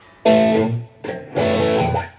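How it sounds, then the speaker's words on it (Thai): A loud electric guitar with a distortion tone, played through an amplifier cabinet, rings out in two sustained strums separated by a short gap, with no voices. "เดี๋ยวผมจะลองปรับให้ดูสักหนึ่งเสียงแล้วกันเนาะเอาเป็นอ่าเสียงแตกแล้วกันเนาะ"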